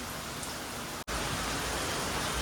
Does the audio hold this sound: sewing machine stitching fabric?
no